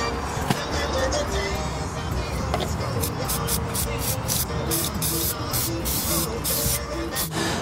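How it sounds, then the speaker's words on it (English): Wax oil sprayed in steady hissing blasts onto bare metal underneath a Ford Transit van, with broadband spray noise pulsing over a continuous background rumble and several short bursts toward the end. "I'm just going to go around with the wax oil, just give it a little blast"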